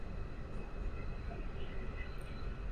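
A metro train passes at night, a low continuous rumble with steady rolling rail noise at moderate distance that stays even for the whole stretch, with no distinct voices over it.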